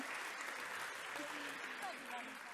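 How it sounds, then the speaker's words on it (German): An audience at the opening of an antiracist assembly in May 2022 applauds, with steady, dense clapping that fills the hall throughout, and a few voices can be heard beneath it. "Bitte nochmal wirklich einen ganz, ganz herzlichen Applaus"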